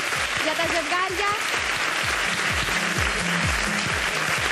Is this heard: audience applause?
yes